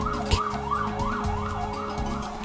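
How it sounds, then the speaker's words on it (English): A police siren wails outside in New York, its rising and falling tone repeating steadily and loud enough to carry indoors, with a low rumble of traffic underneath. "microphones are probably picking up that police siren, aren't they?"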